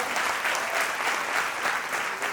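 A seated audience at a community gathering and student award ceremony in Navsari claps in steady, dense applause, loud and even throughout without voices.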